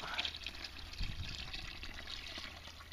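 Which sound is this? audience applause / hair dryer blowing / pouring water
pouring water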